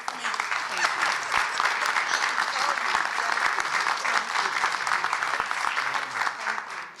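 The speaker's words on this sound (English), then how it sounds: "Let's give her another round of applause" Sustained applause fills a political event hall as a large audience claps continuously for several seconds, dense and even, with scattered sharper claps standing out and faint voices mixed in, tapering at the end.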